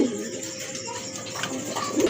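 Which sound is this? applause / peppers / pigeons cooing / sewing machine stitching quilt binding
pigeons cooing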